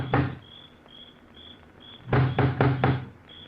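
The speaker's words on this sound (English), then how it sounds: "He looks about uneasily, then lifts the huge knocker on the door." A huge iron knocker on a front door in a radio drama raps once, then three heavy knocks in quick succession, loud and near, with crickets chirping in the background.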